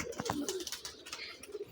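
A golden kamgar pigeon coos softly a few times, low rounded calls amid faint background chatter of other birds.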